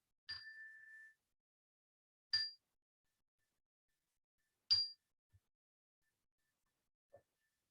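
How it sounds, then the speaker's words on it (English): Three clear strikes of a meditation bell open a mindfulness practice, each a bright ding with a short ringing decay, spaced about two seconds apart in near silence, with faint small clicks afterward. "As always, we'll begin and end the practice with a bell."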